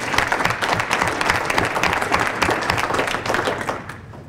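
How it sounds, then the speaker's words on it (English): A conference audience at a regional meeting in Scottsbluff, Nebraska claps together in a dense, sustained round of applause that stays loud throughout and tapers slightly at the end. "They really deserve a round of applause for that."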